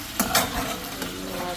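A spoon stirs ackee and saltfish in a pot, a couple of quick scraping strokes over a soft, steady sizzle.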